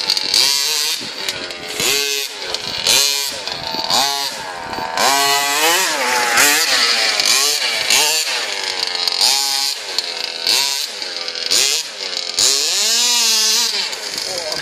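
A small, high-revving off-road buggy engine screams and buzzes continuously, its pitch rising and falling with throttle blips, loud and close throughout, on a grassy meadow.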